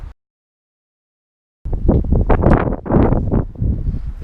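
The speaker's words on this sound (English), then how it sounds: "It's just gonna be wind, isn't it?" Gusty wind buffets the microphone outdoors beside a BMW E36 323i under work, giving loud, rumbling low bursts after a brief silence.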